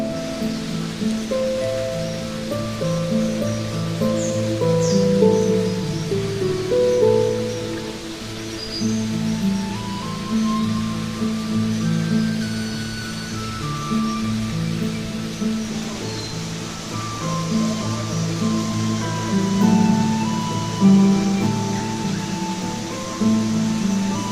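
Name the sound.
rain and waterfall in forest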